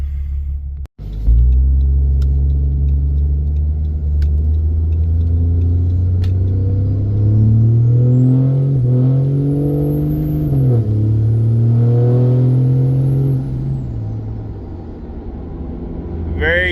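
A 4th-generation diesel truck fitted with a Spelab intake horn and a grid heater delete drives off. Its engine rumbles loudly up close and climbs through several gear changes with a high intake whine.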